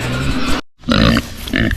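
Pigs on a snowy Tennessee homestead grunt loudly and close by while waiting for feed, in two bursts separated by a brief silence.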